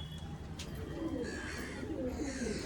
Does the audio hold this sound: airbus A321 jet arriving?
no